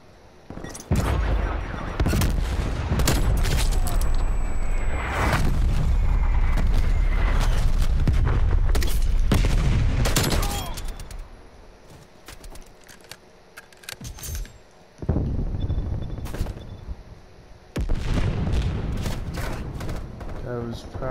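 Call of Duty Cold War gunfire, long sustained loud automatic bursts with explosions and clattering effects, dropping off for a few seconds before another heavy volley returns, with a voice talking over parts of it.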